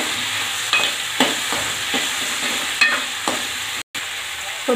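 Onions and tomato sautéing in a pan with drumstick pods about to be added, a steady sizzle running throughout with several soft scraping stirs of a spatula, close and fairly loud, broken by one brief dropout.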